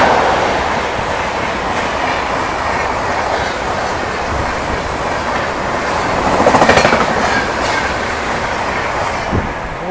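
An Indian Railways express train with red LHB coaches thunders past on the adjacent track during an overtake, a loud continuous rumble with rhythmic clickety-clack of wheels and faint squeals, close by throughout.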